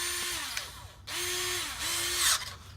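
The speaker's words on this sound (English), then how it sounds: "This is the 3/16 drill bit." A 3/16 drill bit bores through the plastic neck of a Hammer 7 paintball hopper in three close, loud bursts of whining power-drill noise, with a rising pitch as each bite takes hold and short pauses between.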